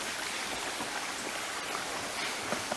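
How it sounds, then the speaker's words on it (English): A creek flows with a constant broadband rushing and burbling of water, steady and moderately close, with no voices. "Look at that creek."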